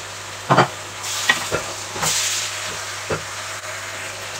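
Pork skin frying in a pan for igado while a spoon stirs it, steady sizzle and hiss with scraping stirs and a few louder clacks against the pan, close and alone without voices.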